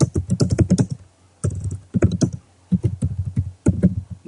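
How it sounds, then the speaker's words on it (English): Typing on a computer keyboard: rapid clusters of close, crisp key clicks in several bursts separated by short pauses. "If you want to type some comment, we can write it here."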